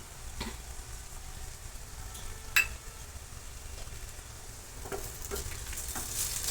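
Onion poha being sautéed in a pan, a faint continuous sizzle broken by a few light scrapes and knocks of a spoon, one sharper clink in the middle; no speech.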